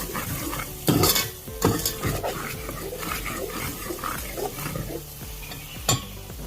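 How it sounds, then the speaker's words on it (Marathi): Salt and garam masala are stirred into a chicken masala in a metal pot, giving loud close spoon clanks and scrapes over a soft sizzle and wet squelching as the thick mixture is worked, with no one talking. "मीठ चवीनुसार मिक्स करून घेऊ एकदम चांगलं"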